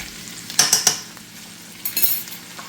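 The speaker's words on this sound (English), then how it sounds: "my sausage and peppers have been sauteing for a little bit" Sausage and peppers sizzle steadily in a pan, with a few sharp scrapes and clinks of a utensil stirring against the metal in two short bursts at close range.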